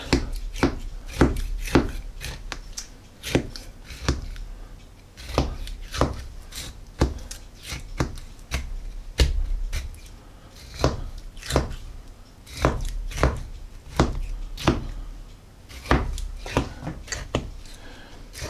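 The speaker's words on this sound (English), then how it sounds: "you're going to put all these little holes in it" Rapid, irregular knife stabs into a raw pork shoulder for pernil, dozens of close, crisp thuds on a cutting board, some in quick bursts with brief pauses, with no talking.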